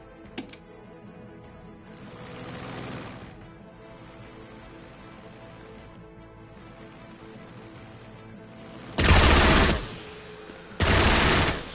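An aircraft machine gun firing in a combat flight video game, two loud sustained bursts near the end that follow quieter engine drone and softer rattling earlier on.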